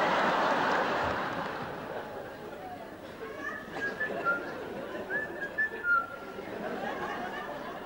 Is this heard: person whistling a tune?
yes